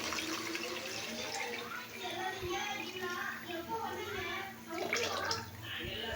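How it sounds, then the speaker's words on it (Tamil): Measured water is poured into a pot of mutton biryani rice being cooked in a home kitchen, a continuous splashing and gurgling pour that runs for several seconds at close range, with a voice talking over it. "இப்போ நம்ம அளந்து வச்சுருக்க தண்ணி ஊற்றிடலாங்க."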